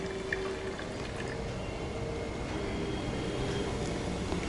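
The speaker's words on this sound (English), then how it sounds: "Can you hear the fizzing noise? That is because of the carbon dioxide." Vinegar and baking soda fizzing inside a volcano model, a continuous soft crackling hiss heard up close with no voices.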